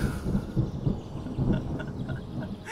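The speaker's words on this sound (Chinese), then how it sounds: "下雨喽，下雨喽，有钱啦" Rain and thunder in the video game Terra Nil, a low rumbling wash that swells and fades in soft pulses over a few seconds, faint and alone with no talk.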